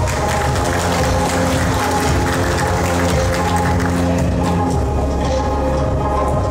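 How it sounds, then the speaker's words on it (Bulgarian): An audience applauds at a national youth fashion design competition in Varna, a dense, steady wash of clapping that fills the room loudly and continuously, with a low hum of music or crowd beneath. "Аплодисменти!"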